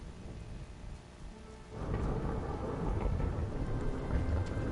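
Thunder rolls in over steady rain in the Sniper Elite Resistance video game, a low rumble swelling midway and continuing with the dense rainfall, no voices.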